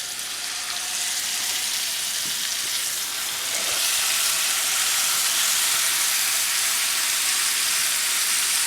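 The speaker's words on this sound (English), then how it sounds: "So what we want to hear, a high temperature sear." Venison and beaver backstraps sear in bubbling butter in a hot pan, giving a steady, close, dense sizzle that swells a little louder partway through, with no talking.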